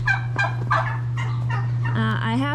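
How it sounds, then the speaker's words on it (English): Two farmyard turkeys kept with laying hens gobble in repeated rattling bursts close by, over a steady low electrical hum. "My turkeys, I have 2 turkeys right here."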